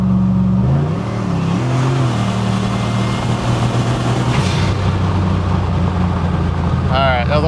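Turbocharged Chevrolet El Camino accelerating hard on a test pull, engine note climbing through rising revs with a gear change midway, loud and close, with voices talking over it.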